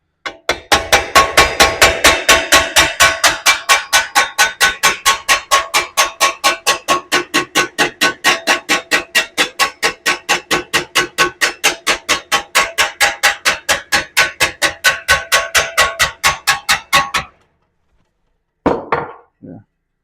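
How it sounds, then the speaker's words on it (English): Metal hammer blows on the driver's side fender of a Plymouth Duster during bodywork repair, a fast, steady run of sharp ringing taps for about seventeen seconds, then silence and a few final strikes, close and loud. "Just want to take out some of these hammer marks right here"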